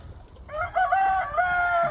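A village rooster on a desi poultry farm crows once, loud and close, its drawn-out call filling most of the moment after a brief quiet start.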